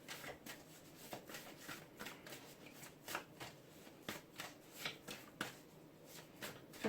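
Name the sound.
shuffling tarot cards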